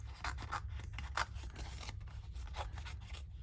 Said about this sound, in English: I think I'll do some snips like that.